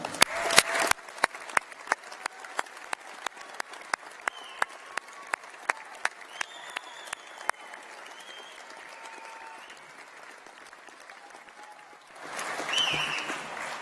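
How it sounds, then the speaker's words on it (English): At a university graduation ceremony, an audience applauds the graduates: a few loud sharp claps open the stretch, then steady sparse claps ring out over a soft bed of crowd clapping that thins and fades, before a brief louder swell near the end. "Please join with me in applauding them."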